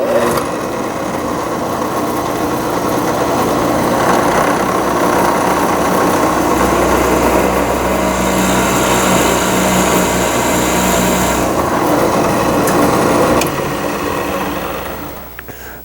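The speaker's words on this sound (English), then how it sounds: "I'll use it as a drill bit to match the shank size" A steady high-pitched whirring of a small power drill, using a small nail with its head snipped off as the bit, runs for about fifteen seconds, then winds down and stops at the end.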